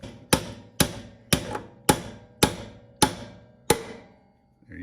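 A hammer taps a motorcycle wheel axle home during wheel reinstallation: seven sharp, evenly spaced metallic knocks about two thirds of a second apart, each ringing briefly before the next, close and clear.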